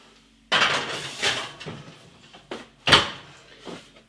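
Potato snacks on a tray slide into an oven, with a loud clatter of the oven door and metal tray followed by several lighter knocks and a final sharp bang, close and alone.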